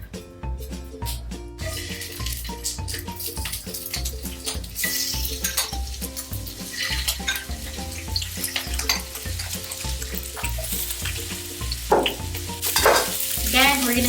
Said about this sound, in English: we're going to do the shrimp next, okay? Then we're going to add our shrimp.